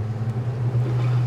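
Cranchi E26 Rider boat powered by a 350 hp Mercury outboard on windy upper Lake Como, giving a steady low engine drone with a constant rumble and wind noise throughout.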